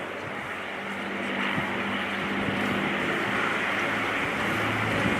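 Lancaster bomber rolling out at an airshow, its piston engines giving a steady, broadband droning rumble that holds level and continuous throughout, with a low engine hum underneath and no talk.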